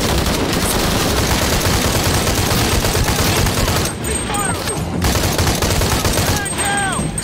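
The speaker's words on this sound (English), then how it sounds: "What is this shooting? Keep firing!" Gunfire in Shadow of the Tomb Raider, with sustained bursts of automatic fire crackling densely and loudly across the whole stretch. The shooting dips briefly in the middle before starting again.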